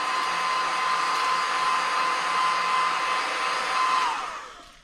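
Heat blower set on low shrinking a plastic cover, a steady close whoosh with a faint whine that holds evenly, then winds down and fades out at the end, no talk.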